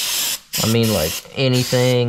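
Fluid Film aerosol sprays onto a car's brake line in loud, close hissing bursts, broken by brief pauses, while someone talks over the spraying.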